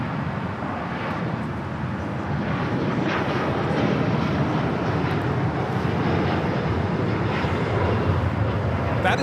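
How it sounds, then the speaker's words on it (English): An All Nippon Airways Boeing 787-9 Dreamliner takes off at Los Angeles LAX, a moderately loud, steady jet rumble mixed with wind buffeting that builds slightly and holds. "That is All Nippon Airways 125 taking off to Tokyo Haneda on the 787-9 Dreamliner"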